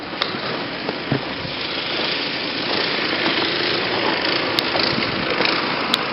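Snow blower engine running in a snowy residential neighborhood, a loud continuous droning rumble that swells slightly midway, with a few light knocks.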